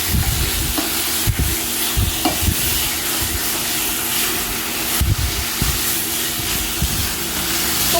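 Chicken stir-fried with green curry paste in a hot non-stick pan, a continuous sizzle with repeated clattering strokes of a utensil against the metal, close and fairly loud.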